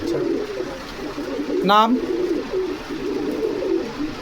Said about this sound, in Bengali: এটা কি ভাই, এটা পাকিস্তানি বিটের একটা কবুতর হচ্ছে।